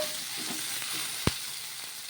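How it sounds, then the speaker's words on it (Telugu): Green chilies frying in a pan while being stirred, a soft continuous sizzle with faint scraping and one sharp clink of the spoon against the pan partway through. "మనకి కలర్ చేంజ్ అయ్యే వరకు కొంచెం బాగా వేయించుకోవాలి కారానికి తగ్గట్టు మనం పచ్చిమిర్చి అనేది వేసుకోవాలి ఇలా మధ్య మధ్యలో కలుపుకోవాలి"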